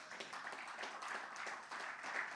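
Congregation clapping in a church service during a sermon, a soft dense patter of many hands sustained evenly for a couple of seconds.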